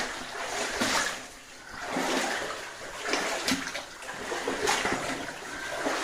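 Water splashing and sloshing in repeated surges while moving through clear shallow water along a ridge line, fairly close and steady with no talking.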